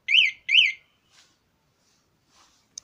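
An aftermarket anti-theft alarm fitted to a Massey Ferguson 241 DI tractor gives two loud, sharp chirps in quick succession, followed by a few faint clicks and quiet blips.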